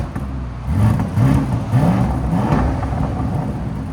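Audi RSQ8 4.0-litre twin-turbo V8 with its resonator deleted, revving in a few quick blips that rise and fall, deep and close, over a steady idle rumble.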